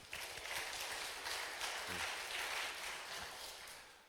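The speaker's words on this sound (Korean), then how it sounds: "우리 영광의 박수를 올려드립시다" A church congregation at Sunday worship claps together in a soft, sustained wash of applause, heard from a distance at low volume and fading slightly toward the end.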